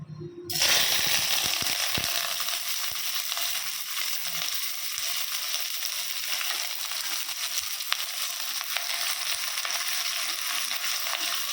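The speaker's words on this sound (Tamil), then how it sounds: "இது நல்லா வதக்கட்டும்" Onions, curry leaves and small country tomatoes sizzle loudly in a hot pan for mutton gravy, a steady crackling fry that starts abruptly and continues with occasional clinks of a spoon, no voices.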